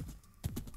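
A horse trots in Minecraft, soft hoof clip-clops sounding a few times in a quiet setting, brief and fairly faint.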